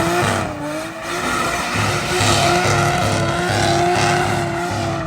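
A 2JZ-engined car, either a Supra or a Holden, skidding with sustained loud tyre squeal over a steady engine roar, continuous and close for about five seconds.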